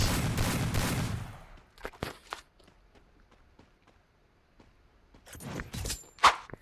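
Gunfire in the mobile shooter Free Fire during a 4v4 match: a loud burst of rapid shots at the start, then scattered single reports and a final sharp shot near the end.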